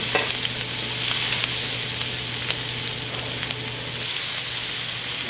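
Chopped onions sizzle steadily in hot bacon fat in a pan while making a Southern breakfast casserole, a loud continuous frying hiss with a brief stirring flare near the end, no talk.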